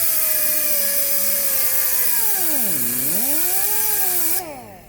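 A power cutting tool slices through a car exhaust muffler flange on a 2015 Nissan Versa Note, a steady loud whine that dips sharply in pitch under load midway, then rises again before stopping abruptly near the end.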